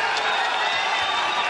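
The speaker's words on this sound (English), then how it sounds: "The crowd reacts to Kevin Randleman's aggressiveness." Arena crowd at a mixed martial arts bout between Kevin Randleman and Bas Rutten, a steady roar of cheering and scattered applause filling the space continuously, with no pauses.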